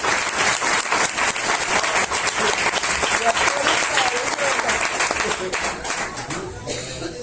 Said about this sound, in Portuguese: Pode bater palmas para você.